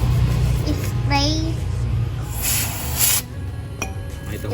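Chain cleaner hisses from a spray can onto a motorcycle chain during a maintenance job, with a couple of short bursts under a steady background hum and a voice talking.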